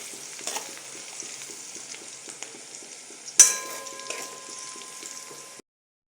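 Onions with a tablespoon of salt stirred in a frying pan, soft sizzling under a spoon scraping in steady strokes, with one sharper clink of utensil against the pan.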